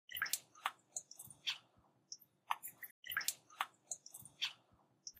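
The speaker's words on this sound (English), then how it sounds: "Stir everything together." Stirring a cooking pot in the Molly of Denali children's video game makes quiet, wet, squishy bursts that repeat in an uneven rhythm, with nobody talking.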